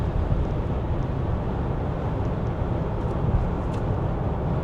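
Steady, dense engine drone and road roar from inside a Toyota Proace Verso van cruising at highway speed, a constant loud rumble with no talking over it.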